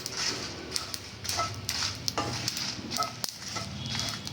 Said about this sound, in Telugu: ఇప్పుడు గ్యాస్ ఆపేసి ఇదిగోండి కొంచెం నువ్వులు ఓ చిన్న స్పూన్ ఉంటాయి